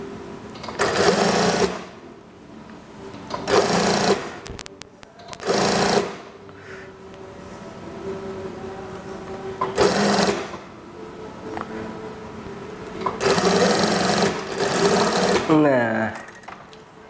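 Bursts of rapid sewing machine stitching on a regular-sleeve kimono house dress, several loud runs of a few seconds each separated by quieter pauses with faint handling noise.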